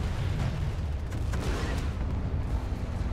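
Tank cannon fire rumbling through a nighttime vehicle battle in Planetside 2, with a continuous dense, booming low-end roar of shots and explosions throughout, loud and sustained without clear gaps.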